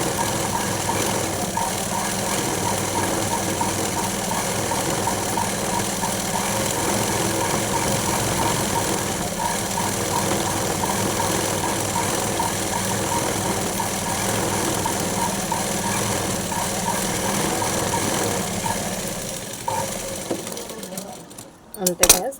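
A sewing machine runs steadily, double-stitching lace onto the edge of a silk saree, a continuous close mechanical whir at even speed that stops abruptly near the end with a few clunks.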